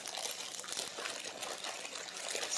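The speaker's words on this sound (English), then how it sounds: "I rinsed them off" Running water pours steadily from a tap as bok choy leaves are rinsed beneath it, a soft continuous splashing trickle with no pauses.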